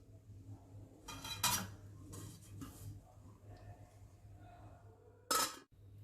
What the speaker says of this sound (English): At this point I am going to just mix everything and close it with a lid.